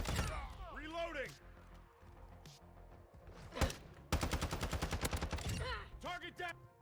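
Video game gunfire with rapid automatic bursts and single shots, a sharp close crack mid-way followed by a fast machine-gun string, mixed with voices talking over the action.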